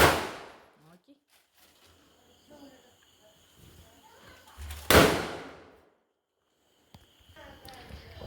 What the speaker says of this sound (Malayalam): പിന്നെ പടക്കമൊക്കെ പൊട്ടിക്കാൻ തുടങ്ങി ഓരോ സാധനങ്ങൾ പൊട്ടിക്കാൻ തുടങ്ങി